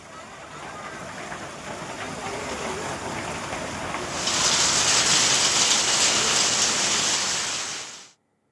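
Heavy unseasonal rain with stormy wind in a rural area around Neknur and Manjarsumba in Beed, a dense continuous roar of falling water that swells louder midway before cutting off.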